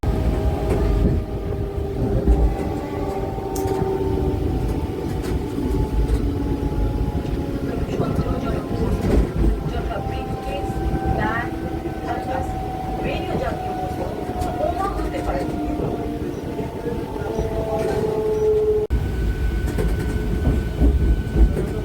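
A passenger train runs along the rails with a loud, continuous rumble and a steady rhythm of wheel clatter, heard from on board with faint tonal hums and background chatter mixed in.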